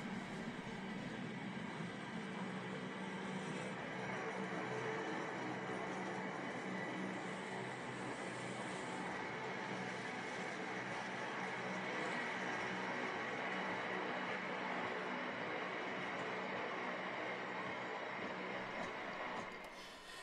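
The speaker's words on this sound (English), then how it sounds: "This is an inspection vehicle, I think." A railway track inspection vehicle rolls past on the Midland Main Line, a steady broadband rumble and rail roar holding at a fairly constant loudness throughout, with no clear clickety-clack beats.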